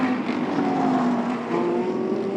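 GT race cars climb through the chicane at Estoril circuit, a continuous high engine whine that rises gradually in pitch, heard from a moderate distance with no voices over it.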